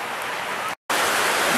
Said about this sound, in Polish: Burza gdzieś tu krąży po okolicach.